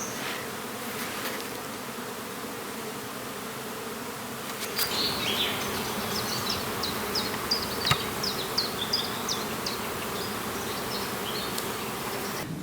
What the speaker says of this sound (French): On peut voir derrière moi les abeilles qui sont très actives en cette matinée.